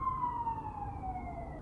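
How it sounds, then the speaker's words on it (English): Emergency vehicle siren outside, a faint, distant wailing tone sliding slowly downward over low background rumble. "Sorry about the sirens."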